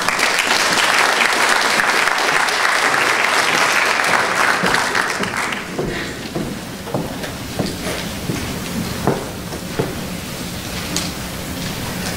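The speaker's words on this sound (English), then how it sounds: "Please round of applause for Haley Chapel." Loud, dense applause from a speech night audience fills the room, then thins into scattered claps and fades out.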